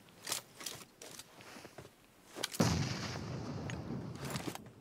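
Grenade blast in the PUBG Mobile video game, following a few sharp distant gunshot cracks, then a sudden heavy boom with a rumbling, hissing tail that lingers for the last two seconds.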